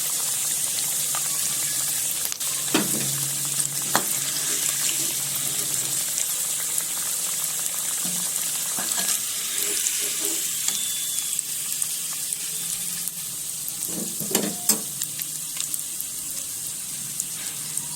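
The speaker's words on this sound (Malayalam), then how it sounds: "ചിക്കൻ ഞാൻ വറുത്ത് കോരണം." Chicken pieces fry in hot oil on a medium flame for a home chicken roast, giving a steady hissing sizzle with scattered crackles and occasional soft clinks throughout.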